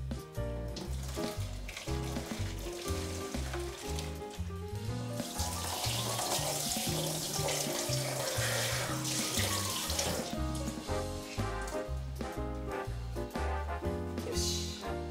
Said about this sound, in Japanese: あとはこれをまあ洗って絞るだけですね。